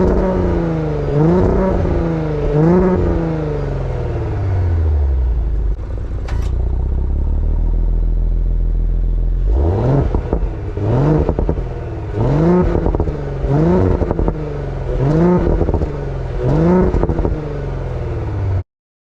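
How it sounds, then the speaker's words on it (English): A 2018 Audi S5 Sportback engine and exhaust revs hard through a long climbing pull, settles, then fires a run of short repeated blips, loud and close with no talking. "I want you guys to hear the exhaust"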